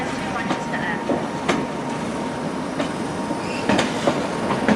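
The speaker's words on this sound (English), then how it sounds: "the next train to arrive to platform 13 will be the 1720 TransPennine Express Service to Manchester Airport" TransPennine Express train rolling into a station platform in Manchester, wheels clacking over rail joints in a steady rhythm with a low rumble and faint squeal, close and continuous.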